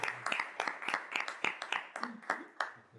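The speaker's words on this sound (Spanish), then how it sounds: "Un aplauso para los tres" A small group of listeners claps for the three guests of a podcast. The sharp, uneven claps sound close by and continue for about three seconds.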